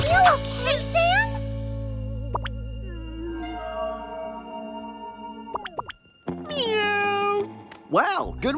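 A cartoon cat character gives a voiced meow, a performer imitating the sound with rising and falling sweeps, alongside animated dialogue and bright sound effects.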